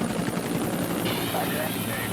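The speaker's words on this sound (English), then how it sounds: "it was vital for the aircraft commander to gain enough forward speed for the massive chopper to rapidly climb to safety" A large Vietnam War rescue helicopter climbs with a loud, steady rotor and engine roar that fills the whole stretch, while voices talk over it.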